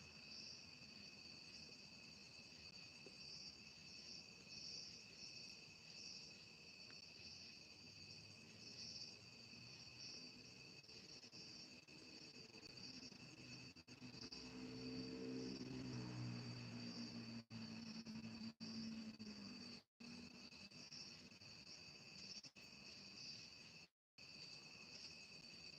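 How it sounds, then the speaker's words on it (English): Continuous, steady high chirping of crickets outside a tent at night, a dense even chorus with a low rumble swelling briefly midway. "The crickets are out."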